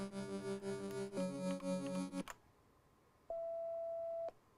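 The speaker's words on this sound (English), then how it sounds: "this is just a sine wave playing at 660 hertz frequency" A buzzy harmonic tone plays and stops, then after a pause a single pure steady 660 Hz sine-wave beep sounds alone for about a second.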